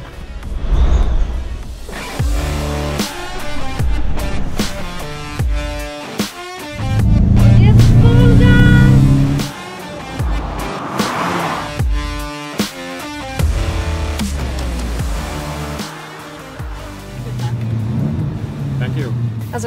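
A car drives laps on high-performance tyres at a test track, its engine roaring and surging past under frequent close conversation, with one loud pass standing out in the middle.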